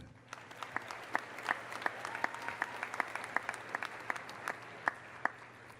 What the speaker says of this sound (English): let's give our peers and our friends a round of applause